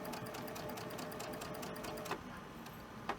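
A sewing machine stitches quilt fabric with a fast, steady mechanical whir, close and continuous, with a couple of small clicks near the end.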